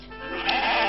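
A lamb bleats once, a short wavering cry heard close and clear, with no speech.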